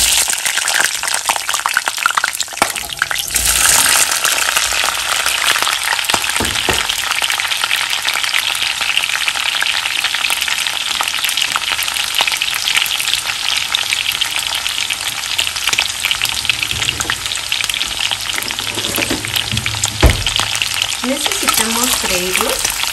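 Jalapeño chiles, a quartered onion and garlic frying in a pot of hot oil, a loud continuous sizzle with crackling and occasional stirring knocks throughout.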